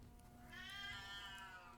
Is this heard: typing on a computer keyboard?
no